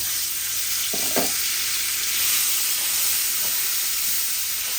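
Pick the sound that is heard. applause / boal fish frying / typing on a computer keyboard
boal fish frying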